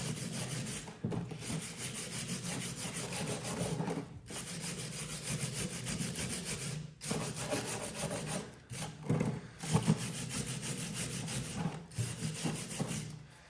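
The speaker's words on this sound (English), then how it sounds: "There's actually so much grime on this that I've got a wire brush out" A wire brush scrubs heavy grime off a water pump with steady, continuous rasping strokes, close and fairly loud, broken by a few brief pauses.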